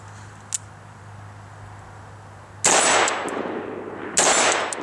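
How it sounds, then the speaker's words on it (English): An AR-15 rifle fitted with a nickel boron bolt carrier group fires two loud, sharp shots outdoors, each followed by a ringing decay, after a quieter stretch with a faint hum and a small click. "But for now, we'll get back to putting some rounds down range."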